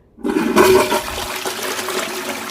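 A toilet flushes in a filthy bathroom during a deep clean, a loud, close rushing surge of water that starts abruptly and then settles into a steady draining swirl.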